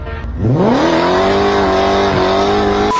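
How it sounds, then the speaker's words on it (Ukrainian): A motorbike burnout in the film Resident Evil: Apocalypse: the engine revs up sharply, then holds a loud, sustained high-pitched howl with a squealing tire before cutting off abruptly. "Бурнаут, дай бурнаут!"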